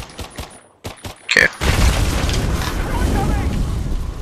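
Explosion in the Earthfall video game: after a few sharp gunshot-like clicks and pops, a loud boom erupts and rolls into a long, heavy rumble that lingers to the end.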